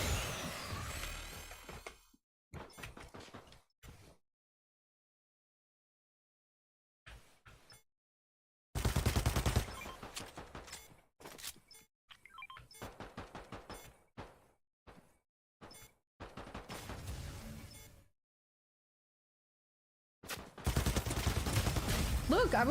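Pistol fire in Fortnite comes in short, sharp bursts of rapid shots separated by silent gaps, loud and close, with a heavier cluster of shots at the end.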